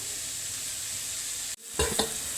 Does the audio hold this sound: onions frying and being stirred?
yes